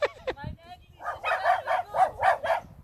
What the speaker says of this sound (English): The dog agrees with you.